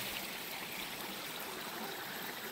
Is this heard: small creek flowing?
yes